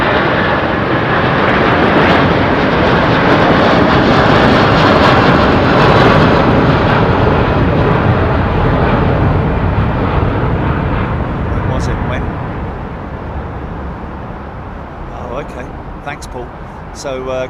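Airbus A330 airliner at London Heathrow Airport, a loud broad jet roar that swells and holds, then slowly fades as it passes, with someone talking over it near the end.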